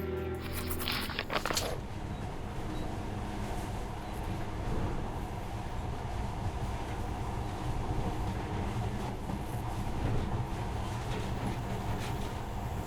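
A continuous mechanical rumble and rushing hum of a monorail train in motion in the video game Metro: Last Light, steady for several seconds after a brief musical flourish at the start.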